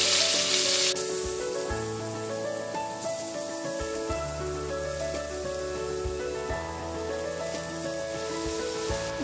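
Grated potatoes fry in a tablespoon of hot oil in a pan over a medium flame for hash browns, giving a steady, close sizzle that stays even throughout with no talking.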